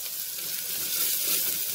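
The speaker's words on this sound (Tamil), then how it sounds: "இஞ்சி பூண்டு பேஸ்ட்டும் பச்சை மிளகாவும் 1-2 நிமிஷம் வதங்கட்டும்." Ginger garlic paste and green chillies sauté on low heat in a pan for a vegetable paya, giving a steady, close, even sizzle with no voices.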